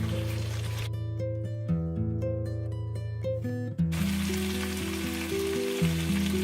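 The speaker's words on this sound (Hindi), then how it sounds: "अब हम दही के साथ चिकन को इस वक्त तक भूनेंगे जब तक ऑयल सेपरेट नहीं हो जाता" Chicken cooking in yogurt and oil in a pan, a steady close sizzle and fry running throughout, with a musical tone sounding over it partway through.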